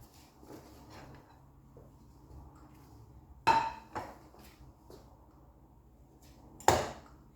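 Fried egg in bread being set onto a plate: two sharp close clinks of utensil and plate amid soft kitchen rustling, quiet between them, no voices.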